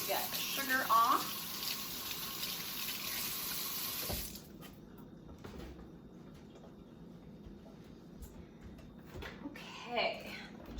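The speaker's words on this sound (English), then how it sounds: "Rinse my hands off just to get the sugar off." Tap water runs steadily over hands being rinsed in a kitchen sink, a hissing splash for about four seconds before stopping, with a voice speaking nearby and faint handling noises afterward.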